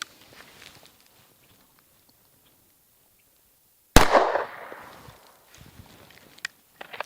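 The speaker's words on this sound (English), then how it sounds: "We're gonna go 5 rounds." A single sharp pistol shot with a Leupold DeltaPoint Pro red dot sight on an outdoor range, loud and close, trailing off in a short echo. Quiet stretches surround it, followed by a few small handling clicks.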